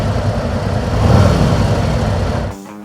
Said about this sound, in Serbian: Upalio sam motor, čujete kako radi.